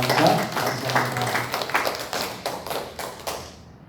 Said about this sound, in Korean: 우리 김병수 목사님의 강사에 또 박수를 주시기 바랍니다